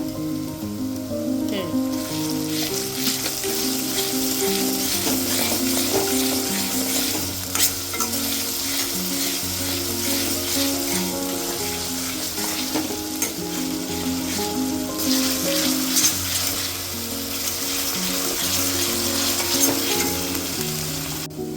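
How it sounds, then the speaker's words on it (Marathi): Onions sauté with salt in a pan, giving a steady, loud sizzle with scraping and stirring sounds at close range throughout and no voices. "आपल्याला हे लाल होईपर्यंत परतून घ्यायचंय. मध्ये मीठ घालूया आपण, म्हणजे कांदा लवकर परतून होतो."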